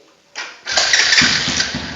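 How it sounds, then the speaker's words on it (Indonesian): A large-displacement Honda CRF motorcycle with a troublesome electric starter: a brief whirring crank, then the engine catches and runs with a steady, loud, close rumble and rough low throb. "Anda pijit starter sambil selah. Ini di starter dulu."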